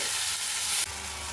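Tomatoes sizzle steadily in a hot pan, a dense hissing crackle that briefly swells before settling, with no talking.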